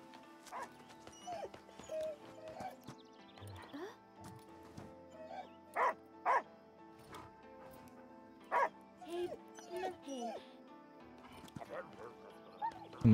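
A puppy in the video game Last Day of June gives several short, sharp yelps and barks at irregular intervals over a game soundtrack, with speech underneath.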